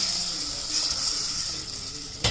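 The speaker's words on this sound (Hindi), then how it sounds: "और इसको ना थोड़ा थोड़ा हम साथ साथ पानी ऐड करते जाएंगे और साथ साथ ही हम इसको हलाते भी जाएंगे" Hot water poured bit by bit into sooji halwa with dry fruits as it is stirred in the pan, a steady close hiss and gush throughout with a brief louder splash near the end.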